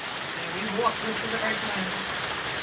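Steady rain pours down during a pop-up summer storm in Virginia, a continuous close hiss of drops spattering on surfaces with no letup.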